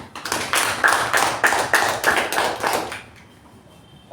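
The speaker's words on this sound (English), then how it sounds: "So let's give us a huge round of applause to our TAPG team." A small audience at a Toastmasters meeting claps for roughly three seconds in a series of distinct hand claps, then stops abruptly and leaves a quiet room tone.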